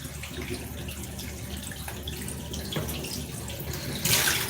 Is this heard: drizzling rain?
no